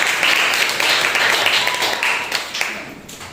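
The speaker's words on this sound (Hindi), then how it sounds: "जोरदार तालियां हो जाए" A church congregation at a Sunday morning service claps in welcome for a first-time visitor, a full round of applause that gradually thins and fades toward the end.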